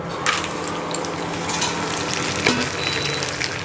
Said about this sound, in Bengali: পাপড় ভেজে দিচ্ছি